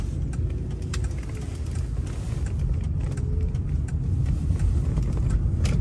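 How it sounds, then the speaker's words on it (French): Rolls-Royce V12 engine heard from inside a very quiet cabin, a steady low hum and rumble that stays even and continuous throughout, with no voices. "On entend quand même un peu le V12."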